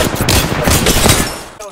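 Rapid automatic gunfire in the battle royale shooter Apex Legends, loud, dense bursts filling the whole stretch with continuous crackling shots and a brief break near the end.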